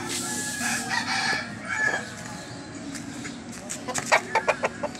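Four chickens outdoors give a mix of drawn-out crowing and a run of quick, close clucks toward the end, with a low background murmur underneath.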